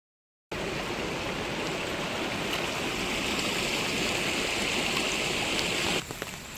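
A stream swollen by monsoon rain rushes along outdoors with a loud, continuous broadband roar of flowing water. It stays steady and unbroken until the clip nearly ends, when it dips briefly.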